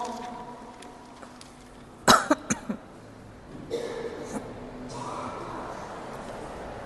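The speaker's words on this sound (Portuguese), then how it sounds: "está todo mundo tossindo, inclusive eu" People in a church service cough sharply in quick succession, three or four bursts close together, over a quiet roomy background with faint murmuring.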